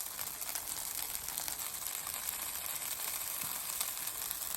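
Cooked, pickled cockles frying in a pan, a steady, even sizzle and crackle that runs throughout at moderate volume with no talking.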